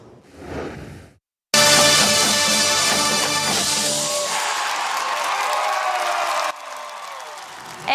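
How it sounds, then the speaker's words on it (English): A large crowd cheers, whoops and applauds loudly after a marching band performance, the roar holding steady for several seconds before dropping partway and continuing more softly. "And the crowd goes wild."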